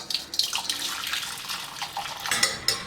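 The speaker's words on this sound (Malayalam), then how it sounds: "ഇനി ഇത് നമുക്ക് അരിച്ച് ഒരു പാത്രത്തിലേക്ക് ഒഴിക്കാം" Masala tea is poured through a strainer into a vessel with bright splashing and a few metal clinks across a few seconds, close and unaccompanied by talk.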